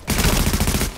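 Rapid automatic gunfire in Tom Clancy's The Division video game: a loud, continuous burst of fast repeated shots lasting about a second, close and dense.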